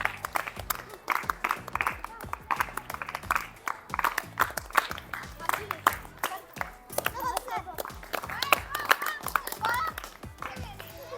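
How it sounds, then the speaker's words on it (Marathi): Schoolchildren clapping in rhythmic bursts during a Saturday classroom quiz game, loud sharp claps in quick uneven runs with children's voices and chatter mixed in between. "टाळ्या वाजवा, टाळ्या."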